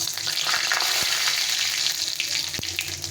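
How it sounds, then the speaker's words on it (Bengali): Cumin seeds, black cumin and two dried red chillies sizzle in a small amount of hot oil, a loud, dense, continuous frying hiss with a few sharp pops and crackles, close up and free of talk. "তেলটা পরিমাণ মতো দিয়ে দিলাম। এখানে নিয়েছি জিরে আর কালো জিরে আর দুটো শুকনো লঙ্কা।"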